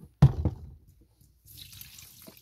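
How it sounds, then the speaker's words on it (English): Dirty, rust-laden water dumped out of a container after cleaning rusty bolts, heard as a sharp splash followed by a softer, sustained pour and trickle, close by with no talking. "I gotta show you what the water looks like when I dump it out."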